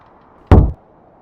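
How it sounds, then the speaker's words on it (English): A single loud rap hits a solid wooden surface, close and heavy, with a brief thud that fades within a quarter second and is framed by near silence on both sides. "A single loud rap shook the room."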